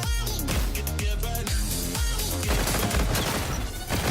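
Rapid gunfire from the X-eon weapon in Call of Duty: Infinite Warfare multiplayer, loud close bursts of repeated shots in quick rhythmic volleys that continue through the whole stretch.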